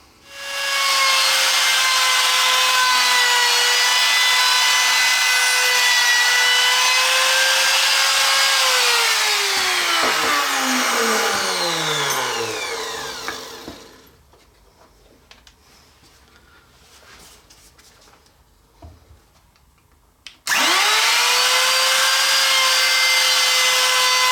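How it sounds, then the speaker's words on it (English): Sustained, harsh abrasive rubbing from a power tool sanding the inside of a wooden box, spinning down and stopping midway, with quieter handling before it starts up again. "we're going to go ahead and give the entire box a sanding on the inside"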